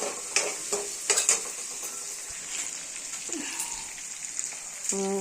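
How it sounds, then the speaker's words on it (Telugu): Onions softening in a pan for a snake gourd curry: a soft, even sizzle with a few utensil taps and scraping stirs near the start, close and moderate in level, no speech. "ఇదిగో ఉల్లిపాయలని కొంచెం మగ్గించుకుందాం"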